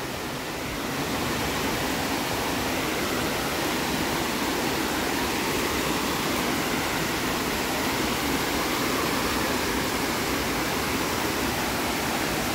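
Sindurkhol waterfall in the Gariyaband forest of Chhattisgarh pours down as a steady, dense roar of falling water, loud and close, unbroken throughout with no voices.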